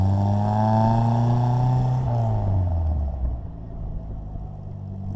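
A 948 Austin-Healey Bugeye Sprite with a five-speed gearbox, restored, drones steadily from inside the cabin, its engine note rising and then dropping away as it eases off into a lower rumble.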